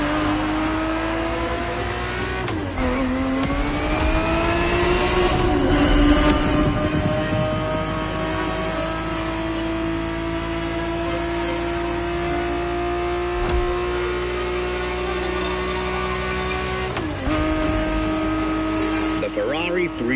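Ferrari 365 GTB4 engine from the 1970s in The Crew Motorfest, revving loudly with tonal harmonics that climb and fall across several gear changes, close and continuous, under a voice describing the car.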